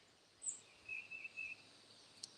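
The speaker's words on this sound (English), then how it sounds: "Listen to those birds." Birds chirp outside a homestead tiny house, a few faint, thin, high calls spaced across a very quiet open-air background.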